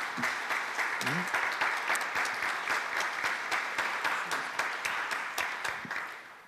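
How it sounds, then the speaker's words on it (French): A church congregation applauds at a Christmas Eve mass marking the closing of Saint-Pierre church in Pointe-des-C, with steady, dense clapping filling the whole stretch at moderate distance and a voice faintly underneath. "On peut l'applaudir, puis on peut applaudir en même temps Monseigneur."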